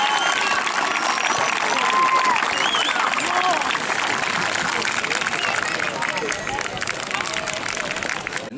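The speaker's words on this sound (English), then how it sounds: "Can we have a huge round of applause once again for the Watford Band?" Outdoor crowd applause for the Watford Band, a brass band, at the official opening of the Watford bandstand: steady, dense clapping mixed with crowd chatter and scattered voices, sustained loudly throughout and easing only slightly at the end.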